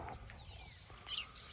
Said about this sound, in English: It feels like you're winning when you hear the birds singing.